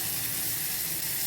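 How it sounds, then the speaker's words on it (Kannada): Tomatoes fry in a pan with onion and garlic, giving a steady, even sizzling hiss up close with no speech. "ಈಗ ಟೊಮೆಟೊ ಹಾಕ್ಕೋತೀನಿ. ಇದು ಸ್ವಲ್ಪ ಚೆನ್ನಾಗಿ ಫ್ರೈ ಮಾಡ್ಕೋಬೇಕು."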